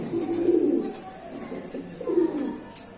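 Lahori pigeons cooing at a pigeon farm, two bursts of low, rolling coos close by, with a soft steady hum underneath.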